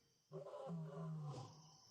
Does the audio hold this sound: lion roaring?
yes